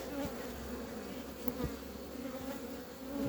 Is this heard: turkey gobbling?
no